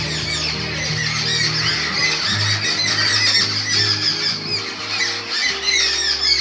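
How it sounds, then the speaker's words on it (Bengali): Jungle babblers in a home garden chatter noisily at midday, a dense, overlapping chorus of harsh squawks and squeals close by, with no voices. "সারা দুপুর ছাতারে পাখিরা হই চই করেই চলেছে"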